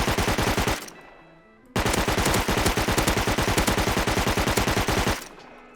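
LR rifle firing on full auto in the video game Rust, two long rapid bursts of close, loud gunshots separated by a short pause, with no speech.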